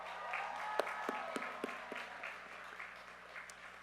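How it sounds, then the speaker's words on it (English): Scattered, fairly faint applause from a graduation audience at South Cobb's 2020 ceremony, with a few distinct individual claps early on, then thinning into a soft, distant patter. "Give yourself a round of applause."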